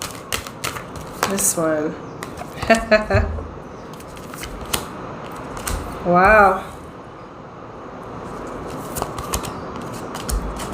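Tarot cards are shuffled in several quick riffling bursts, crisp and close, with a person briefly speaking between the shuffles.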